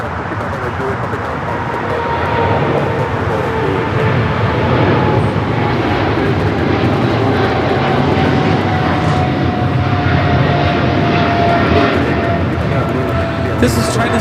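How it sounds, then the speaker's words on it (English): A China Southern Cargo Boeing 777 freighter rolls for takeoff on runway 25 right at LAX, a sustained distant jet roar with a faint engine whine, as a voice talks over it now and then. "We've got that 777 freighter now rolling down that 25 right."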